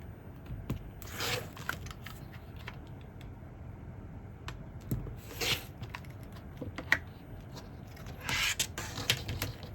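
Rotary cutter slicing through quilting fabric along a ruler while trimming quarter-square triangle blocks, three or four quick scraping strokes with small taps and handling noises in between, close and fairly quiet.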